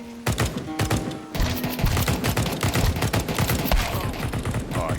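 Sustained heavy gunfire in a multiplayer shooter on a rainy night Italy map, dense rapid volleys of loud close shots for several seconds without speech.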